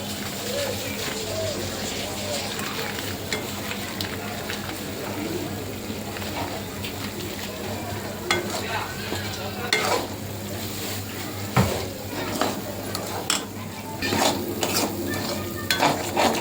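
A spoon scrapes and knocks around a pan of tamarind pickle mixture over gentle sizzling, with irregular utensil clinks and occasional speech in the background.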